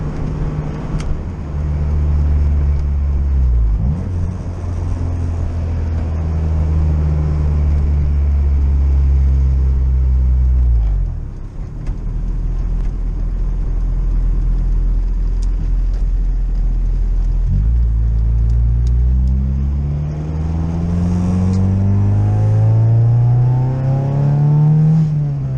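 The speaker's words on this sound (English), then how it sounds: "Listen to that happy little B series." A Honda Integra's B-series engine revs hard and close, climbing in pitch through several gear changes with brief dips between pulls, loud and alone with no talking.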